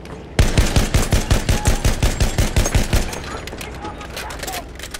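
Machine gun fire in Battlefield 1, a fast steady burst of about a dozen close, loud shots lasting roughly three seconds, then a quieter rumble of distant battle.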